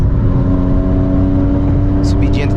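A VW up! with a stage 2 tuned 1.0 TSI engine pulls uphill, giving a steady loud engine drone that holds level for the whole stretch, with a voice briefly heard near the end.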